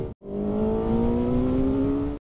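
A Kawasaki motorcycle engine revs hard at full throttle in one sustained, steadily rising whine that cuts off abruptly after about two seconds.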